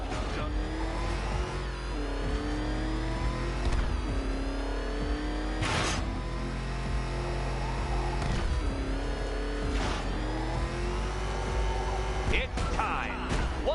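Batmobile engine in Batman: Arkham Knight, roaring and revving continuously with repeated pitch swells and gear-shift drops, loud and close, with a voice speaking over it.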